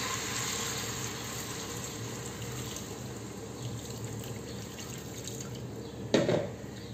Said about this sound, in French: je rajoute mes 3 verres d'eau